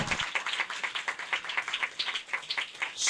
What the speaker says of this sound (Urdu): مقدسہ مریم دی عزت لئی جے تالیاں وجانیاں نے تے کھول کے وجاؤ